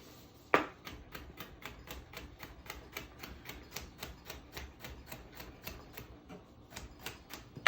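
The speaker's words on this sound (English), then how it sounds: "You're gonna dice some cucumber to go with this too." A knife dices cucumber on a cutting board in quick, even chops, close and crisp, with about two dozen steady strikes and no talking.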